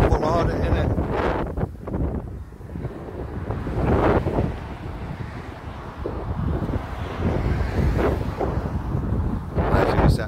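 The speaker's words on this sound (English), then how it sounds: "sorry about this wind if it ends up being dead windy" Heavy wind buffets the microphone outdoors at a prison, a constant low rumbling roar with gusty surges, while voices murmur faintly underneath.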